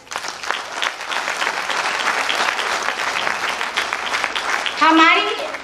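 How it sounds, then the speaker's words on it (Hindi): Loud, dense audience clapping at a company's second-anniversary celebration in India, continuous for several seconds, with a voice briefly speaking over the applause near the end. "एक बार जोरदार तालियां दोस्तों।"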